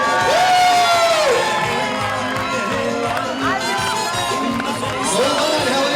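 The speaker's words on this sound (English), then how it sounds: "Keep those hands clapping." Wedding guests clap and cheer together, a loud, continuous crowd noise with whoops and shouts layered over steady clapping.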